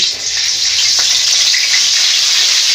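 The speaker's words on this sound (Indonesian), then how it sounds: "Selanjutnya kita panaskan minyak secukupnya dan tumis bumbu yang telah dihaluskan." Ground spice paste sautéing in hot cooking oil, a loud, dense, continuous sizzle close up, with a faint scrape of stirring.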